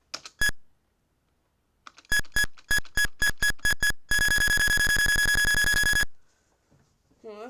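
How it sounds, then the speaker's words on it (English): An emulated PC gives beeps while Windows 1.0 installs: a single beep, a run of evenly spaced short beeps, then a long steady tone lasting about two seconds, loud and clear with faint talk around them. "Oh, it beeped."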